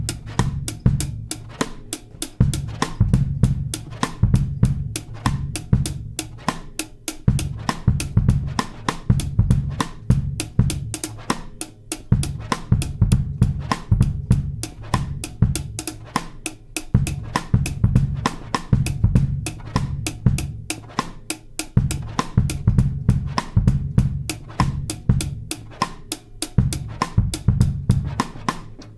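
Drum groove from a track on an album: a steady, looping beat of crisp hits and thick low thumps repeating evenly and loudly throughout, with no talking.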